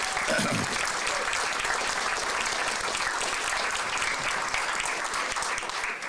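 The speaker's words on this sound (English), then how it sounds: "If you're hopeful, clap your hands and say we can" An audience at a homeless count press conference claps hands in an even, continuous roar of applause, loud and unbroken for the full stretch.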